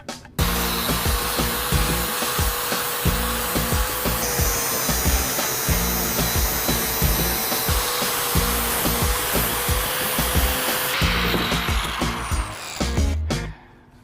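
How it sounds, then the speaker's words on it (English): An angle grinder fitted with a flap disc grinds steel with a loud, continuous rough whir and scraping that varies slightly in pitch, powered from a generator, running close by without speech for about thirteen seconds before cutting off. "hit it with the flap disc and create greatness out of butchery"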